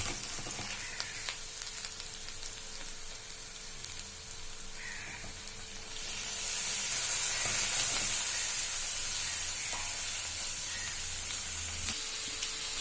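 Oil crackles and then sizzles loudly as squeezed, chopped radish drops into the hot tempering oil, settling into a steady fry.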